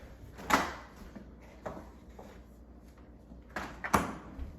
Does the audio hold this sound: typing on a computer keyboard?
no